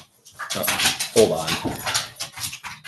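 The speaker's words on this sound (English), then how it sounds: "That sounds like a doggy having fun." A playful bird dog whimpers, yips and pants close by in short bursts, with people talking over and around the excited noises.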